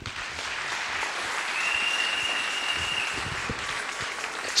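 A church congregation at a Sunday service claps together in dense, sustained applause, loud and even throughout, with a faint tone and some voices mixed in.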